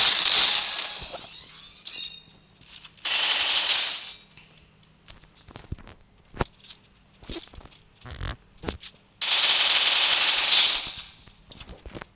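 Gunfire in the mobile shooter Free Fire, with a few sharp isolated shots and clicks scattered between long bursts of loud broadband noise that start abruptly and cut off, and no talking.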